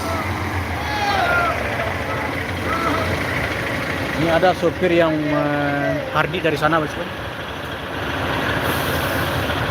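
A large coach at an Indonesian roadside in Sumatra Barat rumbles at idle with a brief hiss of air brakes, with a voice speaking throughout.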